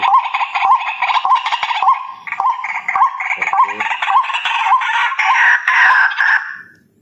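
Loud, repetitive waterhen calls blare from a battery-powered horn loudspeaker used as a bird lure, a rapid looping series of harsh notes that stops abruptly at the end.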